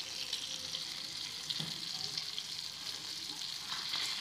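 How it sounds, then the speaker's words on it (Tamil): Masala-coated fish frying in shallow oil on a dosa griddle, a continuous close crackling sizzle with small spits and pops, moderately loud and steady with no talking. "நான் வந்து இந்த மாதிரி தோசை கல்லில் வறுத்து காட்டுறேன்"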